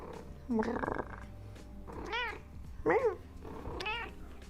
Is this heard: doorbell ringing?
no